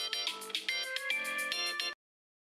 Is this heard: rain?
no